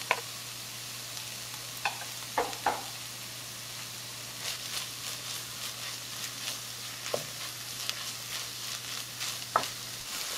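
Gravy gets stirred into turkey empanada filling in a pan, soft scraping stirs and occasional spoon clicks over a low, steady sizzle, with no voices.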